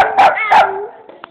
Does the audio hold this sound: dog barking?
yes